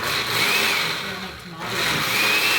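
A blender motor pureeing enchilada sauce with a little water hums continuously at moderate loudness, dipping slightly midway before steadying again.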